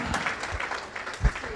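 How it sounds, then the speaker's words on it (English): Audience applause at a candidates forum, a moderate crowd clapping with a few heavier thumps near the end, slightly distant and fairly soft. "Give them a big round of applause."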